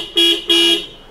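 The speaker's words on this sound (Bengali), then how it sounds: "আর এইটা হচ্ছে নতুন হর্নের সাউন্ড।" New aftermarket monotone horn on a Suzuki Gixxer motorcycle sounds two loud, steady honks in quick succession, each about a quarter second, close up with no talking.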